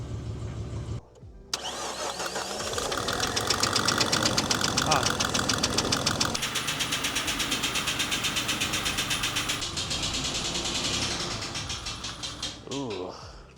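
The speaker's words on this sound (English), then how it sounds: "Crank it up." A Jeep Cherokee XJ with a 4.0 engine cranks briefly, catches and settles into a loud, steady running note with a rhythmic knock, close to the listener, then shuts off near the end.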